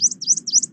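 A leaf warbler sings in India, a nasal, very high-pitched song of quick repeated rising-and-falling phrases, about three in under a second, loud and close over a faint low hum.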